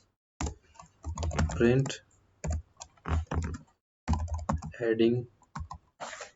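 Python code being typed on a computer keyboard, bursts of quick close key clicks mixed with someone speaking Hindi.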